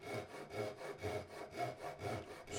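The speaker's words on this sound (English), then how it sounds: "So these saws here, they're absolutely fantastic, these Temple Tools saws." A Temple Tools hand saw cuts through wood in steady, evenly timed strokes, about five rhythmic rasping passes heard up close and fairly quiet, with no talking.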